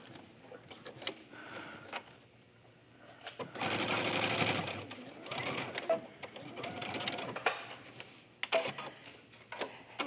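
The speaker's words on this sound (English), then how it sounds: "I'm going to stitch right on top of the line that I just drew" A sewing machine stitches a seam along a drawn line on fabric for an accessory bag, a steady loud whirring burst of a few seconds between quieter handling sounds and shorter bursts near the end.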